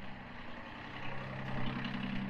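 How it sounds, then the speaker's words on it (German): A tractor engine idles at low level, a faint, steady low rumble with a hum that swells slightly toward the end, heard alone without speech. "Der Trecker ist an, endlich."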